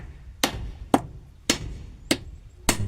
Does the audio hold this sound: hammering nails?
yes